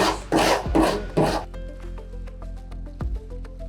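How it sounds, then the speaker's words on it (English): A metal file scuffs across the metal body of a van in four quick, loud rasping strokes, followed by lighter scraping and faint clinks. "we're just going to take our metal file down a real quick scuff to get all the dirt"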